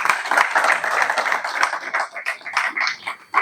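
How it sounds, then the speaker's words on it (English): An audience claps for a speaker at a chamber of commerce roadshow event, a dense, steady wash of many hands that holds for several seconds before tapering slightly. "Let's give him a huge round of applause."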